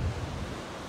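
Ocean surf breaks on a beach at twilight, where someone is surf fishing; a steady, broad wash of waves mixed with wind buffeting the microphone.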